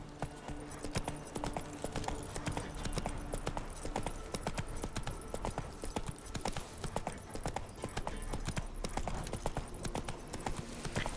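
A horse gallops in The Witcher 3 with a fast, steady rhythm of close, crisp hoofbeats and no talk, though the sound is quiet overall.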